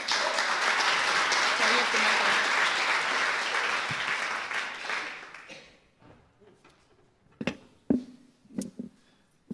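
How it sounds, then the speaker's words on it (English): Audience applause at an evening film event, loud sustained clapping from a crowd that fades away after about five seconds, leaving a few scattered claps and small knocks in a quiet room. "I wish you a very nice evening, and a warm applause for Abdulrahman Hassan."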